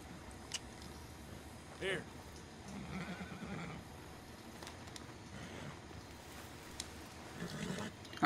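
Horse in Red Dead Redemption 2 giving a faint whinny amid quiet game ambience, with soft hoof clops and low background noise.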